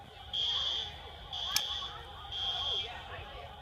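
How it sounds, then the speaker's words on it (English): A fire alarm going off indoors, three repeated high-pitched electronic beeping pulses at a steady rhythm, moderately faint under a low background rumble, with a brief sharp click in the middle. "The fire alarms are about to go off right about now."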